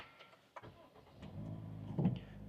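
A Toyota Corolla Altis Special Edition with a 1.6 CVT engine starts up: a short cranking burst, then the engine catches and settles into a steady low idle, heard from inside the car.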